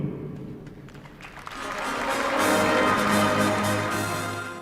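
Applause for Russian President Putin at the start of his address to the Federal Assembly, rising after a moment into a broad, sustained wash of clapping from a large audience in a hall.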